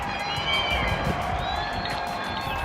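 A crowd in London claps and cheers for healthcare workers, a steady outdoor wash of applause and distant shouts that holds evenly throughout.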